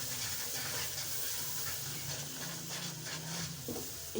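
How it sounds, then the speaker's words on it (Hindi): Masala spices fry in a pan with turmeric, salt and garam masala, a soft steady sizzle and hiss with faint stirring scrapes, quiet and close with no talk. "अच्छे तरीके से मसाले को कुक कर लेते हैं। हमारा मसाला अच्छे तरीके से भून चुका है"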